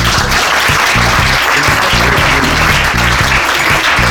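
Loud, sustained audience applause at a Miss Earth Italy Veneto 2019 beauty pageant selection in Dolo, near Venice, dense clapping filling the room with music faintly underneath.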